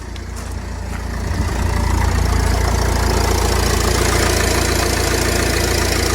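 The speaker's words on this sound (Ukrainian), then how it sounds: "Ну і двигун працює тут, як би так сказати," A Renault Koleos engine idles with a steady low rumble and faint knock, rising slightly in level after a second and then holding constant.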